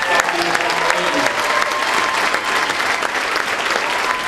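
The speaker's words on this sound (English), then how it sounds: "Could we have a round of applause for the parents and families of these young ladies?" A ballroom audience at a shad derby coronation ball gives a steady round of applause, dense clapping sustained throughout at a loud level.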